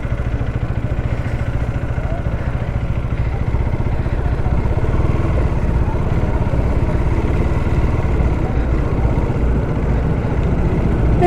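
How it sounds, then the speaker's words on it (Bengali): A KTM Adventure motorcycle rides along with a steady, close engine drone that holds an even rumble throughout, with no break in the running note. "এটা অ্যাডভেঞ্চার KTM"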